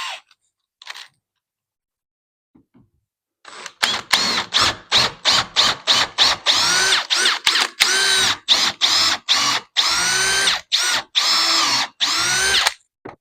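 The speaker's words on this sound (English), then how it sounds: "Now we're switching to the 12mm drill bit." A power drill fitted with a 12mm bit bores holes while a floating shelf with hidden brackets is being mounted, running in a long series of loud, close bursts separated by short pauses, with a few faint knocks before it starts.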